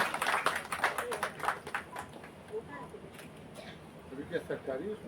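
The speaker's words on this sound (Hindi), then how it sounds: "सभी कृपया ताली बजाएं।" An audience at a state-level award ceremony honouring girls claps in a scattered burst of applause that fades into quieter taps, while a voice speaks over the clapping.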